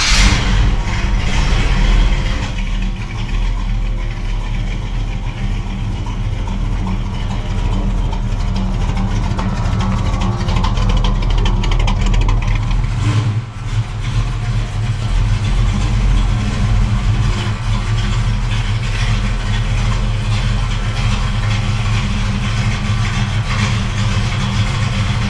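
A Squarebody Chevrolet C10 pickup truck's engine runs loud and close for the whole stretch as the truck is driven out of a garage, a steady deep rumble with slight shifts in revs and one brief dip midway.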